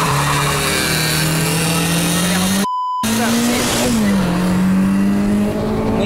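A VAZ 2114 with a 16-valve engine launches off the line in a drag race, its engine droning loud and steady as revs climb and shift, with an abrupt brief cutout and people talking over it.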